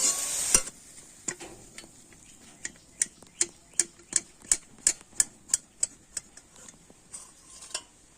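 A spoon stirs melting jaggery filling for rice pitha in a pan, scraping in a quick, regular rhythm of about a dozen crisp strokes over a faint sizzle.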